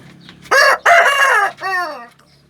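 An Indian breed rooster crows nearby, loud and clear, in a single drawn-out call that rises, breaks and trails off.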